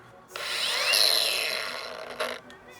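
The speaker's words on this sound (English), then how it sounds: "if it's grinder time, it's grinder time." An angle grinder cuts into the steel frame of a Polaris Sportsman 500 ATV, a steady high whine with shifting pitch for about two seconds, then a brief surge before it winds down.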